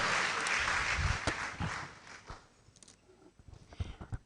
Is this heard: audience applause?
yes